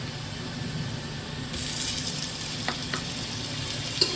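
Cumin paste, ginger paste and onion-garlic paste fry in a pan for a spicy pulao, giving a steady close sizzle, with a few light clicks of stirring near the end.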